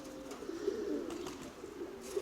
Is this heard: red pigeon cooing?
yes